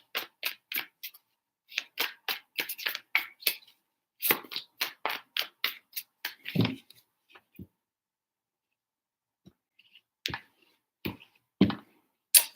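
Tarot cards shuffled by hand in several quick bursts of crisp clicks and riffles, each run separated by brief pauses, close and fairly quiet, with a few isolated taps near the end.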